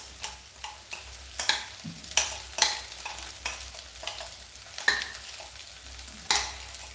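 Onions frying in a pan as paste goes in and gets stirred, a low steady sizzle under sharp scraping spoon strokes and occasional clicks, close and fairly quiet.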